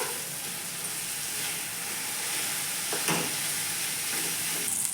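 Potatoes and peas frying in a pan with turmeric and salt, stirred in a village kitchen: a continuous loud sizzle and hiss with brief scraping strokes, close up, no talking.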